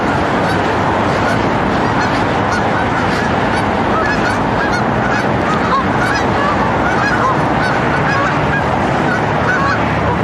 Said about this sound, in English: here's a bunch of geese making geese noises